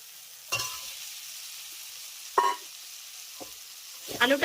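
Fried potatoes are stirred into a dry spice masala in a pan for a vegetarian brinjal dish. The mixture sizzles and scrapes in three or four short, close stirring bursts with quiet gaps between them.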